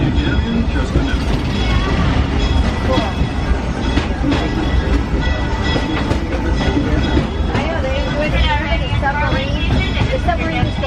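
A Disneyland Railroad train rolling along its rails, with a steady loud rumble and clatter running throughout, a continuous dense mechanical roar with an announcer's voice speaking over it.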